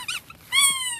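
A small dog that is low to the ground makes a brief close whimpering yelp, a short whine followed by a longer high-pitched cry, loud and alone.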